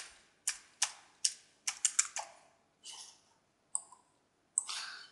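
Computer keyboard typing while entering a username and password at a website registration form: a handful of crisp, close key clicks in short irregular bursts, with brief pauses between them.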